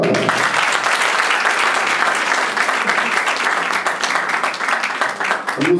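Guests at a civil wedding ceremony applaud the couple, a loud, continuous wash of many hands clapping that holds steady for several seconds before easing slightly.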